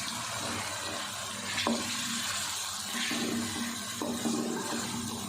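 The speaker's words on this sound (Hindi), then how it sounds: "चिकन को 4 से 5 मिनट अच्छे से हमने भून लिया" Chicken with ginger-garlic paste fries in a pan with a steady, soft sizzle, broken by a few light stirring clinks and scrapes.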